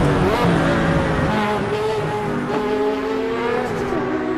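A loud race car engine roars close by, a harsh, sustained drone with shifting revs rising and falling, and no talk over it.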